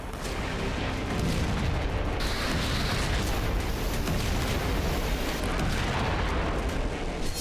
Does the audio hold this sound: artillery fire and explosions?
yes